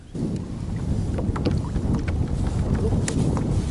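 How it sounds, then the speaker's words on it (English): Strong wind buffeting the microphone on the Tennessee River during kayak fishing, a loud continuous low rumble with gusty swells, around water sounds near the boat. "this wind out here has just gotten crazy. It's picked up tremendously."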